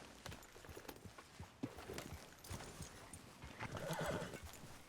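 A horse in the Red Dead Redemption 2 video game whinnies loudly near the end while steady hoof clip-clops sound throughout, fairly quiet overall, with no talking.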